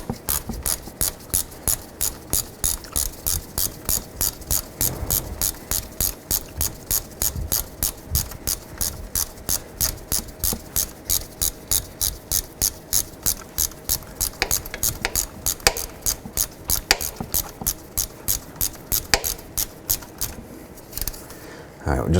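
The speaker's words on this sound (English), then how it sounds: "grab your number 8 Allen head. You can go ahead and start tightening that up" A ratchet wrench with a number 8 Allen head tightening the serpentine belt tensioner bolt on a 2007-2011 Honda Civic, giving a steady rapid series of clicking pawl strokes, close and fairly quiet, with a brief pause near the end.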